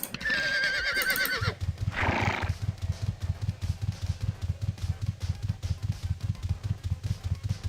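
A video game horse in Ultima Online gives a loud, shrill whinny followed by a snort, then steady rhythmic hoofbeats trot on at an even pace.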